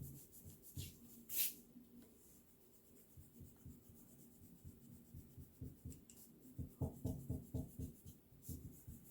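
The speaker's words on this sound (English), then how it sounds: "Once your Sharpie is dry, take an eraser and erase everything out." An eraser rubs out pencil lines on paper over a Sharpie drawing of a hungry bunny, giving soft scrubbing strokes that turn into a quicker rhythmic run of rubs near the end, close and quiet.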